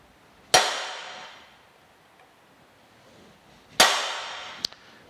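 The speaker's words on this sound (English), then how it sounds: "Center punch, and we'll get us a place to drill these holes out" A hammer strikes a center punch into steel twice, each blow a sharp, loud metallic crack with a ringing decay, followed by a faint lighter tap.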